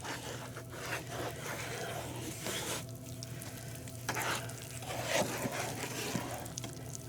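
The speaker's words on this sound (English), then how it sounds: "I took my whisk back in there. All right, now I'm going to stir this up." A whisk stirs beef gravy inside a Ninja Foodi pot, giving soft, faint scraping and sloshing under a steady low background hum, with a few slightly louder strokes.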